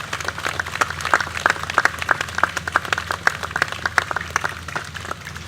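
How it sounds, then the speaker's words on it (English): Audience applause at a September 11 memorial ceremony honouring EMS workers: dense, steady clapping from a sizeable crowd that holds throughout without letting up. "Ladies and gentlemen, can we have a round of applause?"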